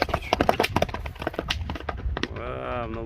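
A horse gallops off down a street, its rapid hoofbeats clattering close and loud at first, then giving way to a voice speaking over steady background noise.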